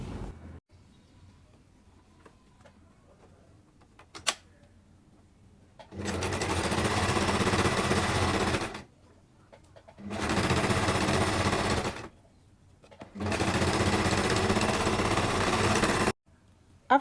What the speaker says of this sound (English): go to your sewing machine, and you're going to sew here